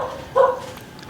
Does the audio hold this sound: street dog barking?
yes